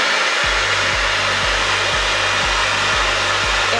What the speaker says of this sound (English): I do use my hairdryer normally with a brush